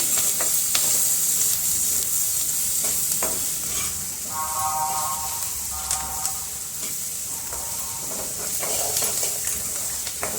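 Onions and green chilies sizzle steadily in a hot pan while a spoon stirs them, with scattered scraping clicks over a continuous frying hiss; no talking.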